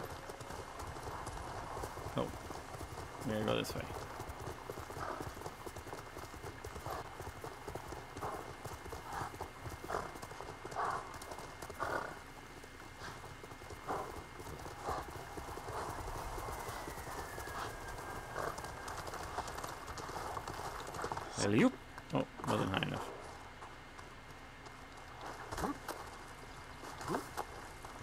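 Horse hooves clip-clop in the video game Ghost of Tsushima, a steady rhythmic trot under a voice and game music, with a brief whinny and a few louder hoof bursts later on.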